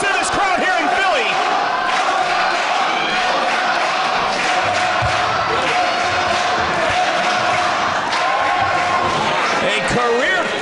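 Philadelphia wrestling arena crowd at a DGUSA event after Akira Tozawa's win over Austin Aries, a loud sustained roar of cheering and shouting that fills the whole stretch, with voices calling out throughout.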